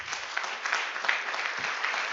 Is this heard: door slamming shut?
no